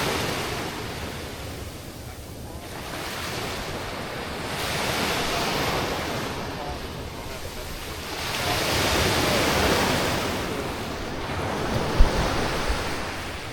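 Gulf of Mexico surf at Nokomis Beach on Florida's Gulf Coast at sunset, a loud continuous wash of breaking waves swelling and easing in slow surges, mixed with wind rumble on the microphone and no voices.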